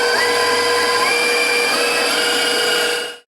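An electric stand mixer whips meringue powder at speed 7, giving a loud, steady high-pitched whirring drone that holds constant for several seconds before cutting off abruptly at the end.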